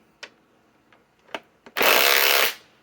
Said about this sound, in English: is with the impact wrench